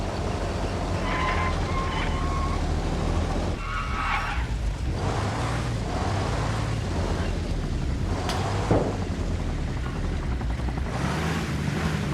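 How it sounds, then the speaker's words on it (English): A Cobra attack helicopter in the video game Arma Reforger passes by, a steady loud rotor and engine roar that swells and blends with vehicle rumble. "Was that an enemy helicopter to our left?"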